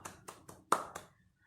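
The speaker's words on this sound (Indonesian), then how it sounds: "Tepuk tangan dulu." Five sharp, evenly spaced hand claps in a quiet classroom during a micro-teaching session, close and crisp, each one fading quickly, with the fourth clap the loudest.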